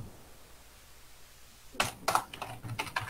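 Quiet at first, then a burst of rapid computer-keyboard typing begins partway through, with fast, uneven clusters of keystrokes close by and no speech.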